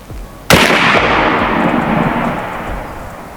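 AEA Zeus .72 caliber air rifle fired once at a concrete house foundation block 25 yards away: a single sharp, loud report followed by a long decaying outdoor echo.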